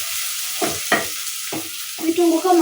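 Duck fries in oil in a pan, a close, steady sizzle interrupted by several stirring scrapes and knocks of a utensil against the pan.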